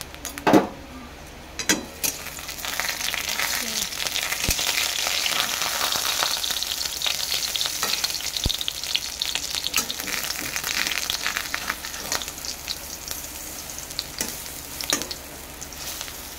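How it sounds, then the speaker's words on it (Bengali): Khesari lentil fritters fry in hot oil with a dense, steady sizzle lasting throughout, with occasional clinks and knocks of a utensil against the pan, and no voices. "বড়াগুলো লাল লাল করে ভেজে নেবো"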